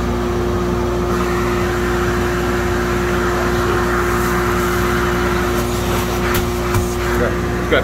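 A RIKON 1HP portable dust collector runs with a steady, even motor drone and a fixed low hum that stays level from start to finish, with no talking.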